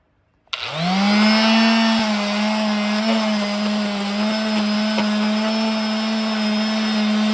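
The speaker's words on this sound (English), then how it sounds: "We're just going to sand this side just to even that out." A power sander starts up on a wooden crucifix piece, spinning up abruptly into a loud, steady whine that holds evenly with slight shifts in pitch as it works the surface, close and alone.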